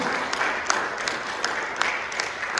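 A church congregation bursts into loud, sustained applause in praise of God, a dense wash of many hands clapping together.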